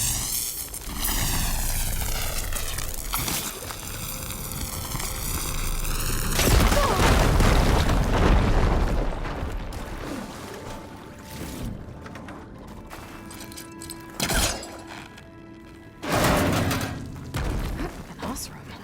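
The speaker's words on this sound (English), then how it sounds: "Should be able to blow up that fire gleam." A fire gleam explodes in Horizon Forbidden West, blowing open a blocked tunnel with a heavy boom and a long rumbling wash of falling debris, followed by scattered impacts and quieter rumbles. A voice speaks at the start.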